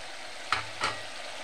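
Chicken chili rice being stirred in a frying pan, two quick scraping strokes of the spatula over a soft background sizzle, close and brief.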